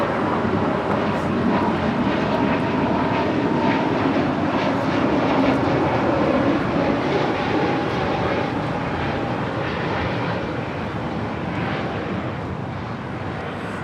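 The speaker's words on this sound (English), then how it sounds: "That is Spirit Airlines 965 departing to Detroit on an A320 Neo" A Spirit Airlines Airbus A320neo jet departs LAX, producing a steady, loud, broad engine roar that stays strong throughout and eases slightly toward the end, with no voices.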